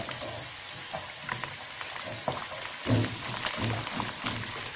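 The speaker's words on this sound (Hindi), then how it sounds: "इनको कट्टा फ्राई करती हूँ, लहसुन और प्याज" Chopped onion and garlic sizzle in a pan for a chicken macaroni dish, giving a steady broadband crackle with scattered pops that grows denser and louder near the end. No one speaks.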